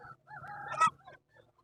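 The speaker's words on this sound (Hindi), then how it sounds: "ये मुर्गे चेक कर ले" Roosters and hens at a Sunday bird market in Rawalpindi, with one close bird giving a short crow-like call and clucks in a brief burst, fairly quiet.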